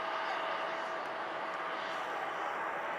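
A steady roar of an Airbus A340-300's jet engines taking off, broad and constant, heard from a distance without any change in level.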